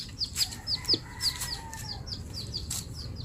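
Several chickens cluck in short, repeated high calls at a steady pace, fairly close, with light farmyard background noise and no talking.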